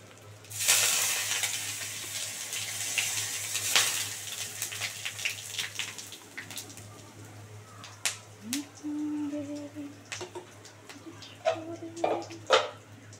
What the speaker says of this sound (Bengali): এবার এই তেলে সাদা জিরে, তেজপাতা, শুকনো লঙ্কা ফোড়নে দিয়ে দিলাম